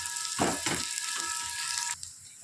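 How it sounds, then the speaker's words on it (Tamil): Onions fry in a pan for potato kurma with a steady, hissing sizzle. Two stirring bursts come early, and the sizzle drops quieter near the end. "நல்லா வெங்காயம் வதங்கணும்."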